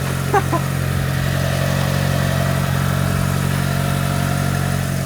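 A Mitsubishi Lancer EVO 7 with a newly installed intake idles steadily in a low, even rumble, close and constant, with a brief faint sound near the start and no talk.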